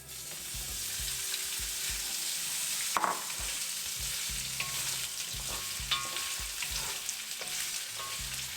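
Potato pieces frying in hot oil in a kadai, a steady dense sizzle running throughout with occasional stirring clatter and scrapes near the middle, no voices.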